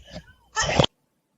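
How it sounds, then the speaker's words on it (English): A single close sneeze bursts out in under half a second after a brief breathy intake, followed by silence. "I'm gonna sneeze."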